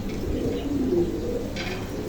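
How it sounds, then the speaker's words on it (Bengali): A pair of three-khil pigeons, one of them black, cooing softly in low, murmuring tones over a steady background hum, with no other sounds standing out. "এখানে এক জোড়া হেনাপুটার আছে এটা তিন খিলের কবুতর"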